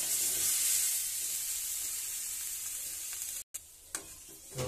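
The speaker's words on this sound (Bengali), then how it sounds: "ফুটতে শুরু করে দিয়েছে।" Curry thinned with a little water bubbling hard in a pan, a steady close sizzle and hiss that drops out briefly near the end before returning with a few light clinks.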